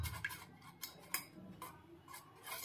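A spoon stirring a home remedy mixture for cracked heels in a small bowl, giving quiet, irregular clinks and scrapes of metal against the container, close up and faint.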